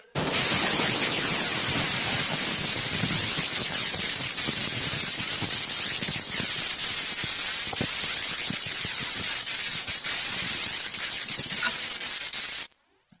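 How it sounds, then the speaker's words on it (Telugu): A pressure cooker cooking dal with cucumber and bottle gourd releases a loud, continuous jet of hissing steam with a high, steady whistle, lasting about twelve seconds before cutting off abruptly. "విజిల్స్ వచ్చిన తర్వాత ఆ ఆవిరంతా పోయిన తర్వాత"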